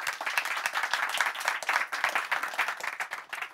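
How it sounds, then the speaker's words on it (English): An audience at a design talk claps loudly and steadily as a guest speaker joins the host on stage, a dense wash of hand claps with slight swells, fading a little toward the end. "Please give her a big applause."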